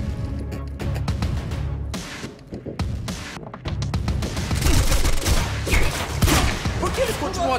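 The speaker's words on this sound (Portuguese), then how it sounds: "Atirando." Gunfire in the Quantum Break video game, rapid bursts and volleys of shots with thuds and impacts, loud and dense, mixed with game effects and brief voices.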